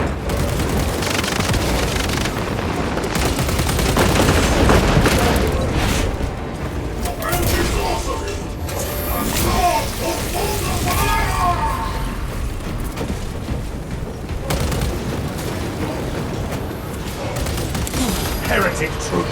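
Sustained gunfire in the video game Warhammer 40k Space Marine 2, dense rapid volleys and booming shots layered with mechanical clatter, loud and continuous throughout.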